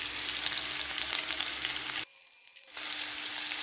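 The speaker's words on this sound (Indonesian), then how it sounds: "Kita tumis bawang merah, bawang putih, cabai rawit merah" Shallots, garlic and red chilies stir-fry in hot oil, giving a steady loud sizzle that briefly drops away for a moment before resuming, close and without talk.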